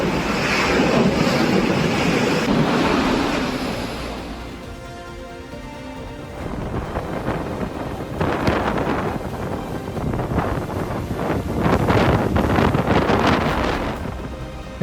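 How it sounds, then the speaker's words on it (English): Storm waves crash at high tide in St. Malo during Storm Pierrick, with loud gusting wind buffeting the microphone and repeated surges of surf rising and falling; no one speaks. "High tide is already special in St. Malo, but Storm Pierrick took those waves to another level"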